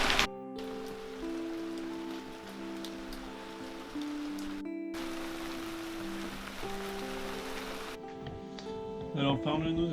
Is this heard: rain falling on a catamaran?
yes